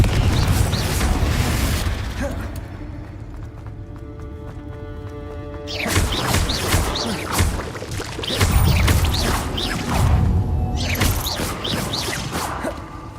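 In the Hogwarts Legacy video game, the Confringo spell explodes with loud, booming bursts amid dense game sound effects, the blasts coming in a couple of heavy waves with a brief lull between them.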